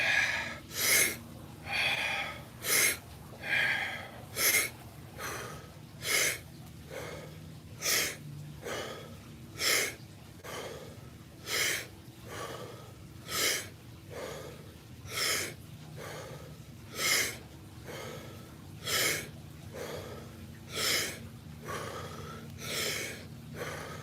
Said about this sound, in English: Make sure you're relaxing on the exhale and breathing all the way in on the inhales.